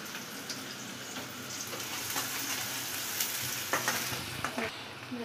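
Onions sizzle steadily in a hot pan for a vegetable bhaji, a constant bright hiss with a few soft stirring clicks near the end, heard close up and alone.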